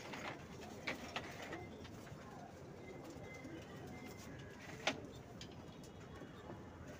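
Pigeons in a loft coo faintly and intermittently against a steady background rumble, with a few soft wing or movement noises; the birds sound distant and low in level.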